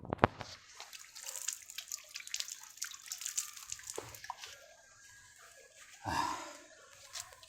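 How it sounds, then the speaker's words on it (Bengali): Water running and splashing as hands are rinsed in a kitchen during food preparation, with a short burst near the start and another near the end, fairly close and moderate in volume. "এখন হাতটা একটু ধুয়ে নেব"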